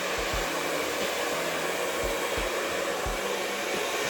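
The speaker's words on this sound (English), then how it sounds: "I'm just going to blow all the hair away from her face on the section that I just have" A hair dryer blows steadily during a salon blowout, a loud even whoosh with a low rhythmic thumping from the motor as it moves through the hair, with no voices.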